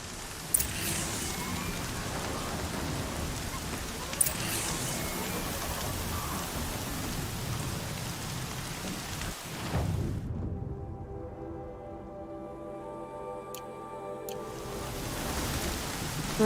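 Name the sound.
rain in video game Horizon Zero Dawn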